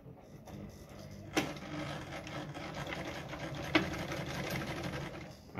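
A Brother Pacesetter ZZ2-B702F sewing machine stitching through fabric, a steady close mechanical whirr and rapid needle chatter running throughout, with two sharp clicks along the way.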